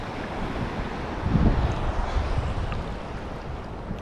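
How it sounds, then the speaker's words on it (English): Surf breaking close to shore, heard from the water, a steady broadband wash with a heavier swell building around the middle, mixed with wind buffeting the microphone. "I'm coming in closer to shore, and some waves are breaking."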